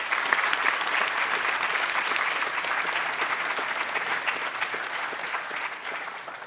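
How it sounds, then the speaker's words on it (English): Graduation ceremony audience applauding families of the graduates, sustained dense clapping from a large crowd in a hall, steady and loud throughout. "So I'd like anyone who has a family member here today or watching online to give them a round of applause"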